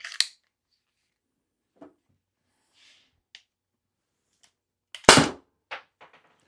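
A Byrna launcher fires a few sharp, isolated shots with long pauses between them: a crisp crack at the start, faint small pops in the middle, and one loud, close report near the end followed by softer clicks.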